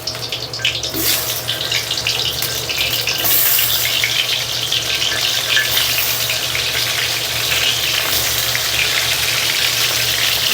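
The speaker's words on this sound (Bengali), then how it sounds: "পটলটা বাদামি কালারে ভেজে নিব।" Pointed gourd sizzling as it fries in oil in a hot wok, a steady dense hiss running unbroken throughout with a faint low hum beneath and no talking.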